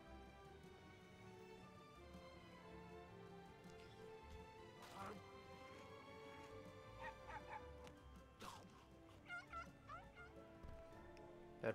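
In The Simpsons Game, a cartoon dog whimpers and yips in short bursts over busy game music and effects, fairly faint in the mix.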